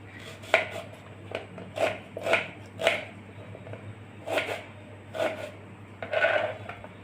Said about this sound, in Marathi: आता आपला कांदा चिरून झाला आहे।